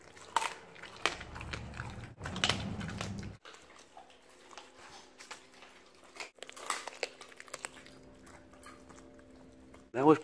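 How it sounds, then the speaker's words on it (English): A Siberian husky eats a chicken leg outdoors at night, with bursts of close, crunchy biting and chewing scattered through the stretch and a quieter pause in the middle. "That was probably the fastest he's ever eaten a chicken leg."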